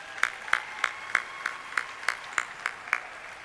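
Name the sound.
gala audience round of applause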